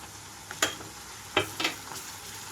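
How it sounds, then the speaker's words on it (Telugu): Onions fry in a pan over a high flame, giving a low sizzle broken by a few sharp stirring scrapes and clatters close by, with no talk. "హై ఫ్లేమ్లోనే ఉంచి ఉల్లిపాయలన్నీ వేయించుకుంటున్నాను"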